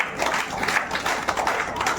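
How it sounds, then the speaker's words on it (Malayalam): A group claps together at a New Year program, a dense, continuous patter of hands lasting the whole moment at moderate loudness, with no clear voices over it. "എല്ലാവരും കൈയടിക്കുക സന്തോഷത്തോടെ."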